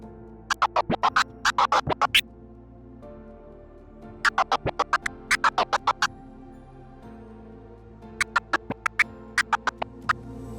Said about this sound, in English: Changing the cut lag distance can actually affect how choppy your cuts sound.